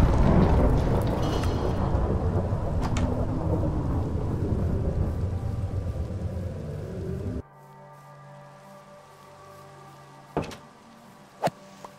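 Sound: thunder and lightning strike in a video game

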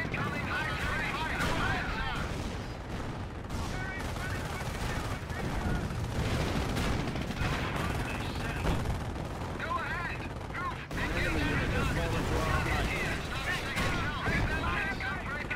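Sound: gunfire in Company of Heroes video game battle

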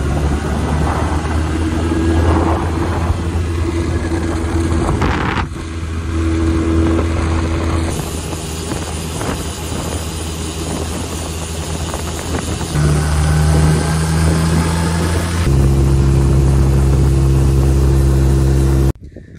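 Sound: stunt motorcycle engine on test ride

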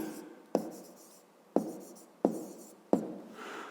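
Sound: writing down a math problem by hand

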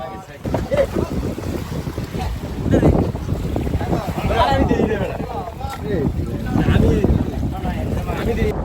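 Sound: hired boat moving on water

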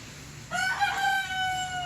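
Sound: fighting roosters crowing

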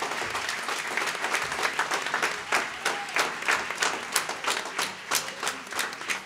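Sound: applause for carnival group

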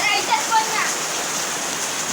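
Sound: heavy rain

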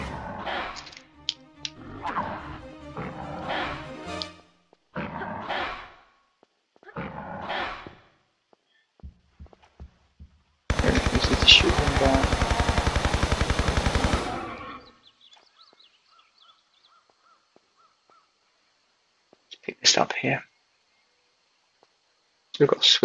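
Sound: MP5 gunfire shooting a dinosaur in video game Tomb Raider 3

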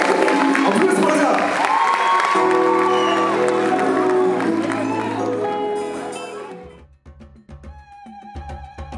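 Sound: audience applause and cheering at festival

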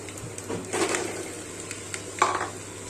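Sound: mixing boiled food with utensils in a pot

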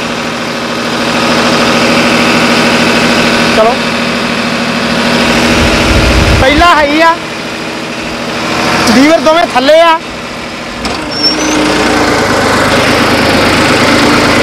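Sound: New Holland 3630 tractor engine running at 1500 rpm

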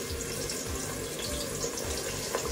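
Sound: chicken wings dropped into hot frying oil

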